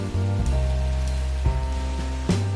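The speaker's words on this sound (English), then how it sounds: "When we arrived, it was pouring rain." Heavy rain pours down at a botanic garden, a steady, dense hiss that runs unbroken throughout, with faint low tones beneath and no talking.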